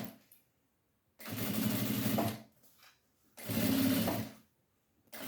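A sewing machine runs in two sustained bursts, stitching around the edge of a fabric bag, with a short pause between runs and no talking.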